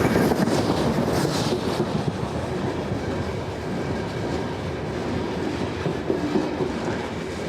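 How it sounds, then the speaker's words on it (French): A very long Trans-Siberian train rolls past close by on the tracks in extreme cold, making a steady loud rumble with clattering wheels and some wind buffeting the microphone. "faire bien attention à laisser passer les trains. Ah, il est long, hein? Il est très très long."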